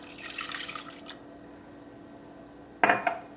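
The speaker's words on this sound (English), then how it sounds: "Add the milk." Milk poured into a cheese soufflé base of seasoned mixture in a home kitchen, a soft splashing pour near the start, then a brief sharp clink or splash toward the end, with faint background hum.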